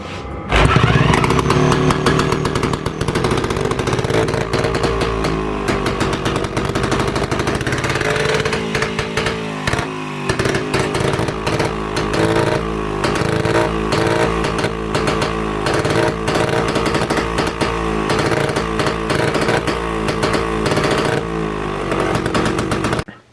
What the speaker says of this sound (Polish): Piła odpala naprawdę bardzo ładnie